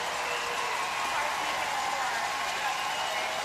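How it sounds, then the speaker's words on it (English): A packed curling arena at the 2018 women's world championship, Canada against Scotland, erupts in a steady, loud roar of cheering and applause that holds for several seconds, with a commentator talking over it. "Well, that certainly gets the crowd going here."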